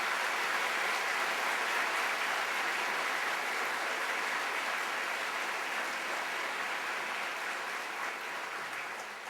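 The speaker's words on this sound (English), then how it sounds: "may we have a round of applause for the platform party" Commencement audience applauds the platform party, a broad, sustained hiss of many hands clapping from a distance, steady throughout and tapering slightly at the end.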